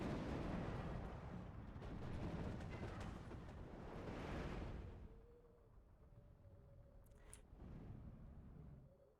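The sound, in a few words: artillery bombardment in Steel Division II video game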